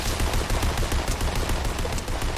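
Dense video game gunfire crackles continuously in quick, overlapping shots, loud and close throughout the short stretch.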